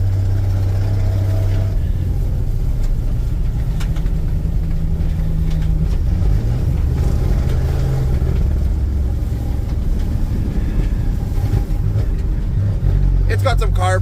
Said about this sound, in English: There's that fourth gear shift.